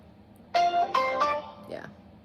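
Three tones from a telephone keypad dialing 666, short bright beeps in quick even succession, loud and close, followed by a brief murmur.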